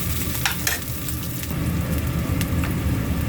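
Green chillies, three of them slit down the middle, sizzle steadily in hot oil in a pan for vegetable fried rice, with a few sharp stirring clinks over a dense, close frying hiss and no voices.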